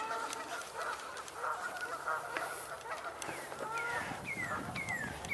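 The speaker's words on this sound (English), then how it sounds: "I hear mallards. In the distance, that is." Mallard ducks calling in the distance outdoors, faint scattered honking quacks mixed with other bird chirps and background rustle.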